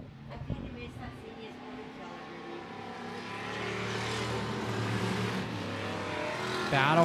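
Thunder Stock race cars circle I-76 Speedway in a close battle for the lead, engines droning steadily and building louder toward the end, with a commentator talking over the racing throughout.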